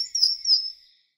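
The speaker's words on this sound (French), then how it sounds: "L'oiseau chante." A single bird gives a bright, high chirping phrase of a few quick notes, clear and fairly close, fading out after about a second with no other sound around it.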